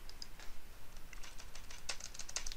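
Quick, uneven clicking of keys being typed on a computer keyboard, close and fairly quiet, in short bursts with a light background hiss.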